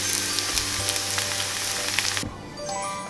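Kanafeh fries in a pan with a dense, steady sizzle that drops off abruptly partway through, leaving a quieter hiss and faint tones, close up with no voices.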